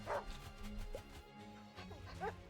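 Cartoon dogs in the fantasy strategy game Wargroove bark, yip and whimper in a short scuffle, several quick bursts close up, with faint background music.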